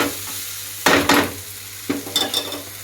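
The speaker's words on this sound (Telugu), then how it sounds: "నూడిల్స్ వేసేసి మిక్స్ చేసేయాలి ఇక" Maggi noodles with chilli powder and coriander powder are mixed in a frying pan, giving two loud bursts of scraping and sizzle followed by a few quick clinks of a utensil against the pan.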